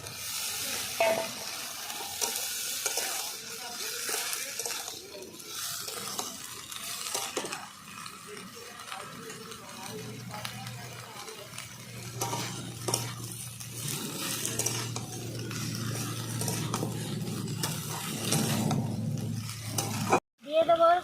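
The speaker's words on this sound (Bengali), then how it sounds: "মশলা ভালো করে কষিয়ে নিয়েছি দিয়ে দেবো কেটে রাখা আলু আর বরবটি একসঙ্গে দুটো দিয়ে দিলাম" Potatoes and long beans stirred into hot spice paste in a pan, frying with a steady sizzle and scraping stir strokes, with a low hum building in the second half before a brief drop at the end.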